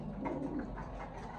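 Lahori pigeons coo in their coop with soft, low, continuous throaty calls that overlap one another close to the microphone, with no voices.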